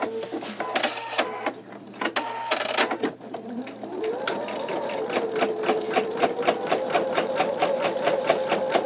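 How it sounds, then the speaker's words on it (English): An embroidery machine with a MagnaHoop magnetic hoop runs a wide basting stitch, a steady rapid mechanical chatter of regular needle strokes with a rising motor whine, preceded by a few clicks and brief bursts as it starts up. "So I'm going to go ahead and do my basting stitch."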